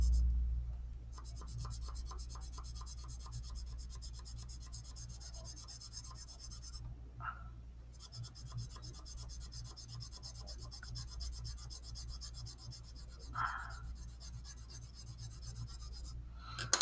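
Graphite pencil strokes rubbing across paper while shading a sphere drawing, a steady soft rasping scratch that runs almost continuously, close and quiet, with brief pauses between passes.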